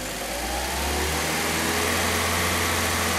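A car engine in a workshop, just repaired for belt noise, revs up from idle into a steady, loud, sustained drone that fills the whole moment, with no voices over it.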